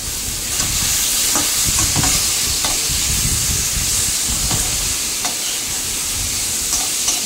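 Potatoes added to sizzling vegetables fry in a pan for a bitter chorchori, a steady close hiss broken by repeated scraping stirs of the spatula, with no voices.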